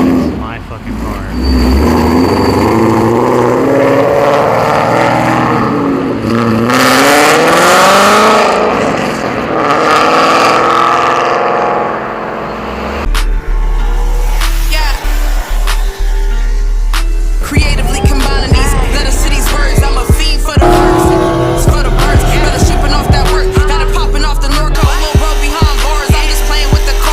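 A Ford Mustang engine rumbles and revs, rising and falling in pitch, with a loud, steady roar that continues throughout. People talk over it.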